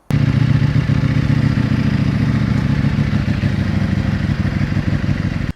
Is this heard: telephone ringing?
no